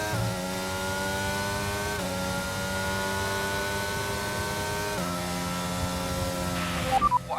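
Formula 1 race cars in F1 22 roar at a steady high-revving pitch that climbs through gear changes, shifting down abruptly every few seconds, with a brief clatter and tire noise at the end; no talk.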